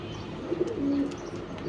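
Pigeons in a home loft in Lalbagh give low, soft cooing calls that rise and fall for about two seconds, with a steady murmur of other birds behind them.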